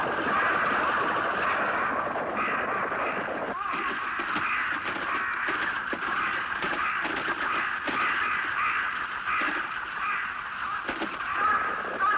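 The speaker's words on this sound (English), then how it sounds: "Crows are attacking our farm." Crows cawing in an animated cartoon about a farm under attack, a dense chorus of harsh calls filling the scene continuously, loud and close, mixed with other cartoon noise.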